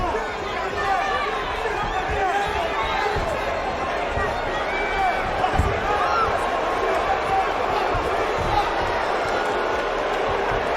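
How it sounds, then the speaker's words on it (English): A boxing arena crowd rumbles and murmurs continuously at a fight between Jake Paul and Anderson Silva, a steady dense roar with a few thumps, while commentators talk over it. "Rumble in the crowd for no action."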